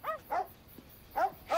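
Dogs at an animal shelter bark in a TV drama scene, four short sharp barks in two pairs, moderately close with quiet gaps between.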